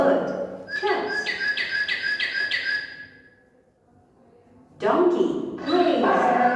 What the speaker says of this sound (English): Bird chirps.